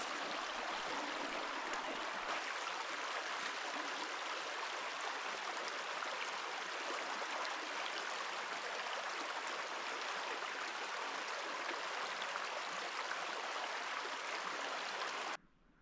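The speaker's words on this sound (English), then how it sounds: "get down to the fast flowing water" Fast-flowing freshwater stream near a salty lake in Lofoten, a steady broadband rushing roar heard close and constant for about fifteen seconds before stopping abruptly.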